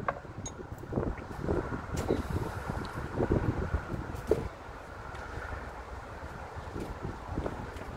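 Gusty wind buffeting the microphone, loud rumbling bursts that ease off partway through, with no voices.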